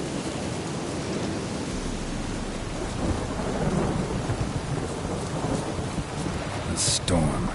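A thunderstorm in a video game, with steady heavy rain hissing and rumbling thunder rolling underneath, loud and continuous with no talk.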